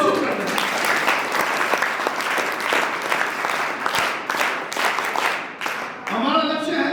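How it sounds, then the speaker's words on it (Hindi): An audience at a felicitation ceremony for scouts claps in a dense, sustained burst of applause that fades toward the end, with a voice speaking over the last moments. "मैं चाहूंगा कि आप लोग इस बार तालियां यहाँ से उनको प्रस्तुत करें।"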